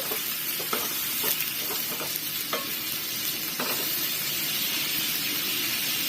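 Vegetables being stirred in a pan after water is added, giving a loud steady sizzle and hiss with intermittent scraping knocks of the utensil against the pan.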